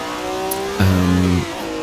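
A Ford GT40 race car at the 1967 Daytona 24 Hours, a loud close engine drone with a steady pitch that briefly steps down and thickens as it passes.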